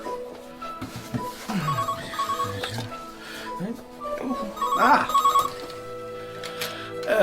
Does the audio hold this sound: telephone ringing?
yes